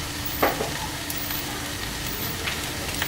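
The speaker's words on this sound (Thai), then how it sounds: "เสร็จแล้วเราจะใช้เวลาผัดสักพักหนึ่งนะฮะ" Shrimp fried rice seasoned with sauce, sugar and pepper is stir-fried in a pan, giving a constant close sizzle with a few brief scrapes and taps of the spatula.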